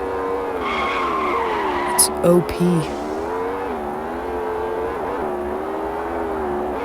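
A fast Maserati races in the Extreme Car Driving Simulator video game, with a steady high engine whine, brief tire squeals and skids, and a voice speaking over it.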